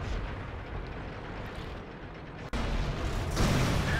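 A tank cannon shot in the World of Tanks video game: one sharp broadband crack partway through, standing out from constant mechanical rumble and clatter. A heavier burst of noise follows near the end. Nobody speaks.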